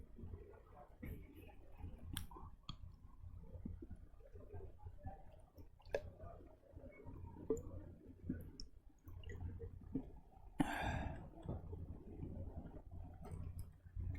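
A man drinks water in a quiet room: soft gulps, small wet clicks and squishy swallowing sounds, with a louder gulp near the end, all faint and close.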